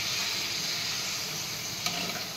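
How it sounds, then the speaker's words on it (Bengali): Papad frying in hot oil: a dense, continuous close hiss and bubbling sizzle with one small clack near the end, heard alone. "আর আমি পাঁপড় ভাজছি"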